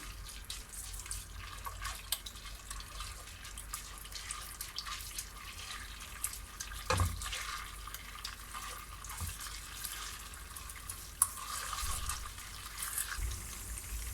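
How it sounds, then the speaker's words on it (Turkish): Plain water pours into a pan holding a spoonful of tomato paste loosened in oil. It makes a soft, steady rush of liquid with a brief louder splash partway through, heard alone. "1 su bardağı su ekliyorum."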